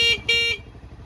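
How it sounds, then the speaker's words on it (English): A vehicle horn honks twice in quick succession, loud, close and bright, with a short gap between the two blasts and quiet afterwards. "And then here's the horn over here."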